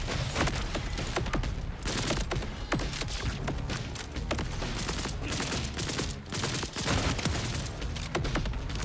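Spawned turrets in the Borderlands 4 video game fire nonstop, a dense barrage of rapid gunshots and thuds that runs loud and unbroken across the whole stretch.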